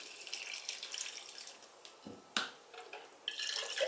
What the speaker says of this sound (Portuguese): Então aqui eu vou colocar mais água.